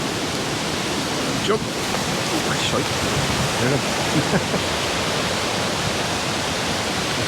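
Storm-swollen river in Tollymore Forest Park rushing loudly and continuously, a dense broad roar of water filling everything while people shout briefly over it.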